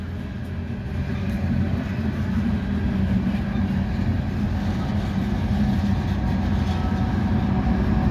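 Southbound CSX loaded coal train of hopper cars with a DPU locomotive rolling past, a loud, steady rumble of wheels and engine drone filling the whole stretch.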